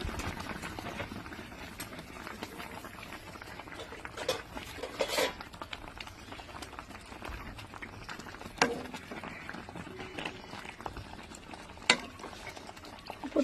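Mustard pabda fish curry broth bubbling at a steady simmer in a pan, with faint pot and utensil clinks over the continuous low bubbling as fish pieces go into the broth.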